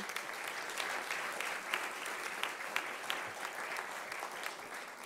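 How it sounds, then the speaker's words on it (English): Audience applause for an executive chef at the Fourth Estate Award dinner, a large room clapping steadily in a dense, even wash, somewhat distant and soft. "let's have a round of applause for our executive chef, Susan Delbert"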